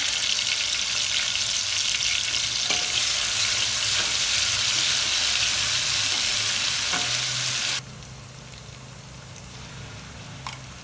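Steady, loud sizzling of whole spices tempering in leftover onion-frying oil for Hyderabadi chicken masala, with occasional stirring clinks; the crackle drops noticeably in intensity near the end.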